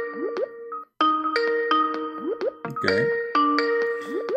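Skype chimes and call tones repeat in a bright, looping electronic pattern with bubbly pops and rising bloops, loud and up close, sounding alone without talk.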